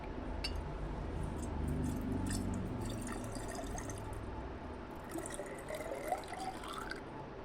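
Water is poured from a glass beaker into another vessel, giving a soft, steady trickle with a few drips and faint glassy clinks near the end.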